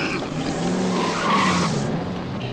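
A car overtakes another with loud, sustained tire skidding and squealing, engine noise running steadily for a couple of seconds at close range.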